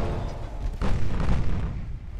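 A torpedo striking a warship in the naval combat game Ultimate Admiral: Dreadnoughts, heard as a deep booming explosion that swells and rumbles on for over a second.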